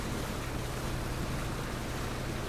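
Constant, loud rush of water and wind over a low engine hum as a boat travels in PUBG, an even wash of noise without pauses or speech.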